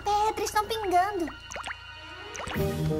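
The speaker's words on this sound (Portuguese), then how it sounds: "Os dentes de pedra estão pingando." Cartoon water drips from stone teeth in a cave, a few bright plinking drops over background music while children's voices talk.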